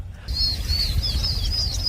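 Birds chirp beside a fishing canal on a sunny day, repeated high thin tweets and trills running steadily over a low background rumble, starting after a brief quieter moment.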